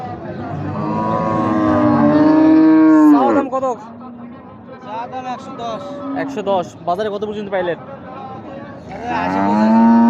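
Dairy cows at the Raniganj cattle market give long, loud, close moos at the start and end, with someone talking in between over faint market background.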